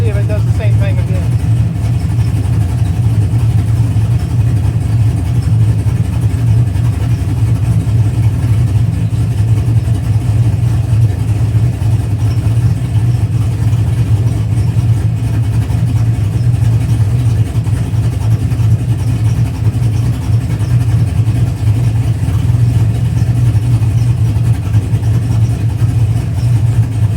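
A Pontiac GTO engine idles steadily after being revved, a continuous low rumble that holds even and loud throughout, with a voice talking over it.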